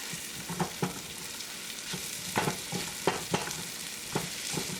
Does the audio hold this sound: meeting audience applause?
no